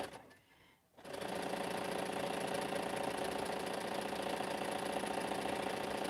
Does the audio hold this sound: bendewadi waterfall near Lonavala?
no